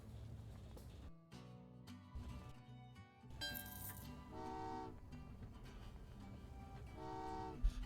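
Train Valley 2 puzzle game: a short busy rumble of game trains and music leads into two bright, tonal train horn toots a few seconds apart, fairly loud over a steady background bed with no talking.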